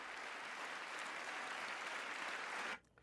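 An audience breaks into loud, sustained applause after a line from a political speech, a dense wash of clapping that cuts off abruptly near the end.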